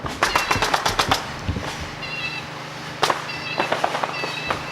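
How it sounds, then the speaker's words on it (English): Paintball guns firing in a neighbors' backyard paintball war, with rapid bursts of pops at the start and scattered shots later, heard at some distance over outdoor ambience and birds. "Neighbors are having a paintball war or something."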